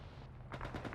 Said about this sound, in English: Light gunfire.